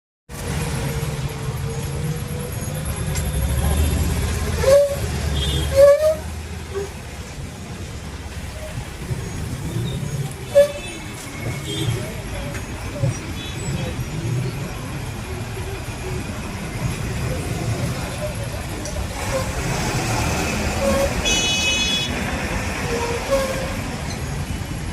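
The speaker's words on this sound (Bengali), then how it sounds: "ট্রেন যাচ্ছে জন্য থামালো টোটোটা।" A train passes on a rainy morning while an e-rickshaw waits, giving a long, steady rumble of moderate loudness with a few clanks and knocks along the way.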